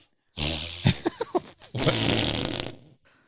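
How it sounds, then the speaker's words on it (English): A fart sound effect played during a comedy podcast, a loud, sustained buzzy blast that breaks into several short sputtering bursts before a second long, rasping blow that trails off, with no talk over it. "You have a fart sound effect."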